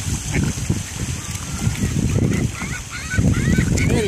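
Ducks and geese honk and quack nearby over gently splashing water, with a person talking throughout.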